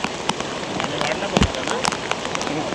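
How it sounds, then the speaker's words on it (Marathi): Steady rain patters across a surface at a crowded village fishing spot, a dense wash of drops with a few louder splashes and faint voices in the background. "पाऊस पडायला लागलाय मस्त"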